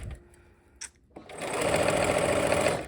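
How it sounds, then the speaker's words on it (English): A sewing machine stitches through fabric for a short run of a few stitches, with a steady, close mechanical whir. A couple of brief clicks come first. "I'm gonna go ahead and take a few stitches to just secure my needle in there"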